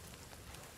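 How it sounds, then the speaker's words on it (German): Steady rain pattering on and through a roof in the survival video game The Forest, a continuous dense hiss with no pauses or voices. "Schön, wie es durchs Dach regnet."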